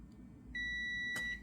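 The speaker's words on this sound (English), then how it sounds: "So you hear the beep, that's good." A single sustained electronic multimeter continuity-test beep starts abruptly after a brief quiet moment and holds steadily, close and clear, with a faint click near the end, while testing parts of a Pioneer CDJ-1000 with power problems.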